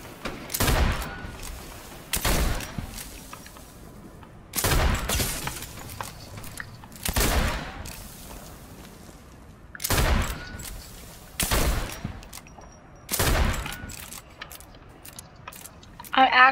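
Sniper rifle shots in the Fortnite battle royale video game, a series of loud sharp single cracks spaced a second or two apart, each followed by a mechanical bolt-cycling rattle, with a voice talking briefly in between.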